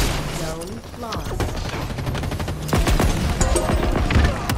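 A grenade blast rips through a Halo Infinite Big Team Battle match, landing as a loud broadband boom amid continuous rapid gunfire and chaotic combat noise.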